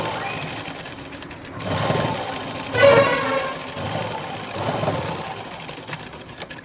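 A sewing machine stitching cloth runs in short, rapid mechanical bursts of whirring and clattering, fairly close, with a louder run midway, while a person talks in between and over it.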